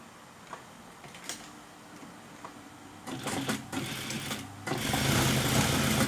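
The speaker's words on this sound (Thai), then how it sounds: "เย็บ เย็บเส้นตรงก่อนนะคะ เย็บเส้นตรงนี้ลงมาก่อน" Sewing machine stitching a straight line on a fabric bow, with a few quiet ticks and clicks at first, then a louder, close, rapid mechanical chatter that keeps running to the end.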